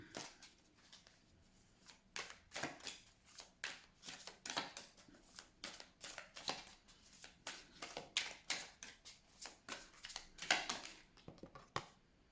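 A tarot deck is shuffled and cut by hand, making a steady run of soft, rapid riffling and flicking card sounds that are close, quiet and continuous with no talking.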